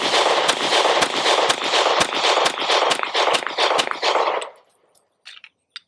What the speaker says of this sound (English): I've got the P320 X Compact, and we're gonna see how this does under recoil.